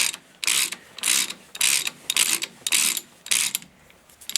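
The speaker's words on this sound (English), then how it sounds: "you're going to use a 1/2 inch extension. I got a long one here so I can stay out of the way of the camera" A ratchet on a long 1/2-inch extension tightens a nut during a Willys overdrive installation. Close, loud clicking comes in about eight quick, regular bursts with short pauses between them.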